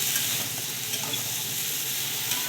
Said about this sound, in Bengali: ভালো করে রসুনের সঙ্গে ভেজে নিচ্ছি